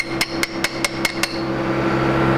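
Hammer tapping a tight cap off a Ford 351W engine during a teardown, six sharp metallic strikes in quick even rhythm, loud and close, followed by a low steady hum.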